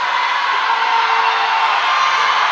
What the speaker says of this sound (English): All of her teammates are at the shallow end of the pool cheering her on.